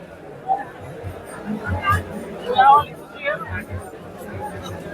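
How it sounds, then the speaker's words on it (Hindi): A crowd gathered at a Jantar Mantar protest makes a dense, steady murmur of overlapping chatter and voices nearby, with occasional louder calls rising above the babble. "जंतर मंतर पर आज भीड़"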